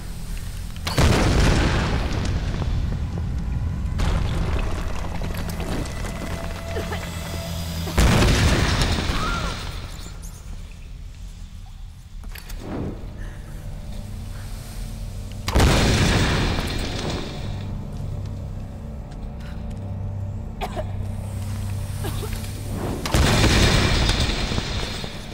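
Natural gas exploding in the Tomb Raider video game, several deep booming blasts spaced a few seconds apart, loud and close, each rumbling away before the next.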